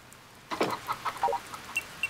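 Chickens in the farming game Harvest Moon: Save the Homeland give a short run of soft, close clucks, about half a dozen quick notes spread over two seconds on a quiet background.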